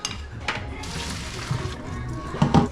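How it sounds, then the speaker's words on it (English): Pasta cooking water for a Cajun shrimp pasta pours and splashes close by in short sloshing bursts, with a louder splash near the end. "Before I drain this, let's save some pasta water."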